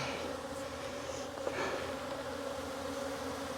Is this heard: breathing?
no